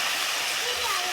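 Brain dropped into a pan of frying onions gives a steady, loud hissing sizzle that fills the short moment without pause.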